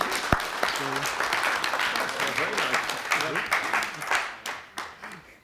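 Audience applause at an innovation pitch event, a burst of clapping that fades out with people talking over it close by.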